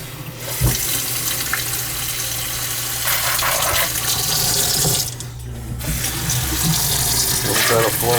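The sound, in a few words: water flowing from a sink faucet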